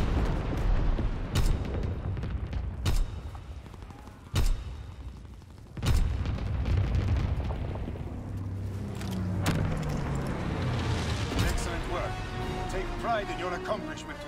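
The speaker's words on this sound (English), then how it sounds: "Enemy mortar fire incoming." Mortar rounds explode in the World War II shooter Call of Duty WWII, several sharp booming impacts spaced a couple of seconds apart, followed by rumbling battle noise and voices speaking.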